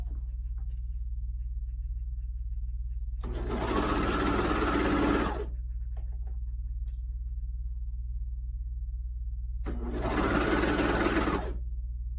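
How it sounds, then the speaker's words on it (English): A sewing machine stitches along the top of a fabric seam in two bursts of rapid whirring, each about two seconds long, separated by a quiet pause over a low steady hum. "we're just gonna sew right along the top, aiming for our needles to hit at that first crease line"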